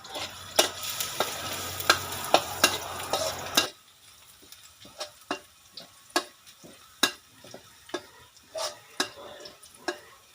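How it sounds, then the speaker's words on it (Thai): Garlic sizzles loudly in hot oil in a pan for the first few seconds, then drops to a quieter crackle broken by sharp stirring clicks and scrapes. "ใส่น้ำมันลงไปเจียว กระเทียมก่อนเลยนะคะ"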